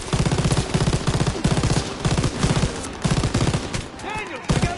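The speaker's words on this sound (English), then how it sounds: "Move the MG over and see if we can get a better field of fire." Machine gun fire in Call of Duty WW2 during the D-Day battle, rapid loud bursts of automatic shots in quick repeated volleys with a brief pause before firing resumes, with voices shouting over the gunfire.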